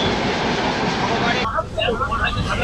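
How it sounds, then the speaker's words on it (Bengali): An express train pulls into Kasganj Junction, a loud continuous rumble of coaches that drops abruptly to quieter station ambience with voices faintly audible. "ট্রেন এসে দাঁড়ালো কাসগঞ্জ জংশনে।"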